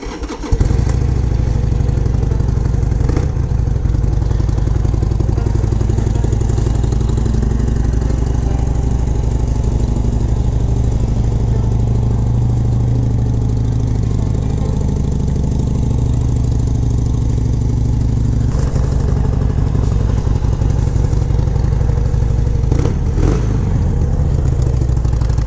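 A Harley-Davidson Sportster engine with stock exhaust idles steadily and loudly the whole time, a deep rumbling, slightly clattery throb with no voices over it.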